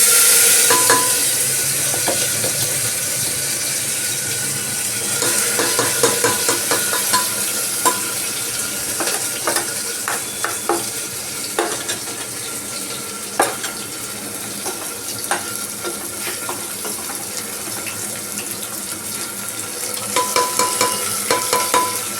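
Dal added to a pan and stirred over a low flame, with a steady soft sizzle running throughout and frequent scraping and clinking of a spoon against the pan.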